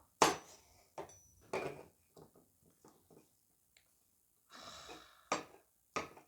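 A knife slicing through an avocado for a tuna avocado salad, giving a few sharp cutting and scraping strokes near the start and end, with quieter clicks in between.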